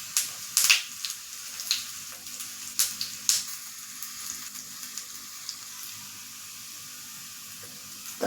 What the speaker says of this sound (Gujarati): તલ ચટકે અને લાલ થાય એટલે આ વઘાર છે